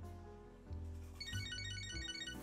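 A phone rings in the video game Catherine: Full Body, an electronic ringtone with repeating bright chime notes over a low game music bed, fairly faint.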